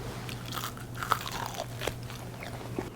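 Crispy chicken wings from a Weber grill, seasoned with hot crispy oil of shallot, garlic and hot pepper, being bitten into up close, with a few crunchy bites and chews over a steady low background hum.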